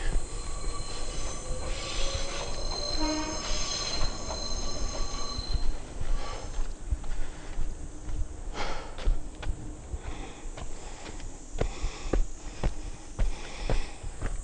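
A train in Japan rumbles past close by, wheels squealing high and metallic, then rhythmic clacking over rail joints as the cars roll on.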